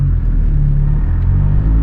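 A big-turbo Mazdaspeed 3 engine drones steadily while the car is driving, a loud, continuous low rumble with no voices.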